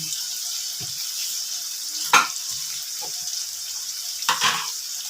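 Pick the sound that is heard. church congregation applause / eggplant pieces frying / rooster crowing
eggplant pieces frying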